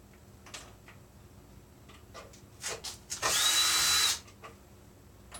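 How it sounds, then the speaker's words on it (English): A power drill whirs briefly, with a few short bursts before one sustained high-pitched run driving a screw, amid light clicks and handling noise. "slow your drill bit down, when you're screwing things in, fastening"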